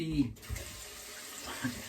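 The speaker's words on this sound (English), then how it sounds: "So as you can hear, yes, I got the water running again. I want my tap water as cold as I can get it." Cold tap water runs into a sink in a barbershop during the cold-towel stage of a hot towel shave, a soft, uneven trickle and splash that stays fairly quiet.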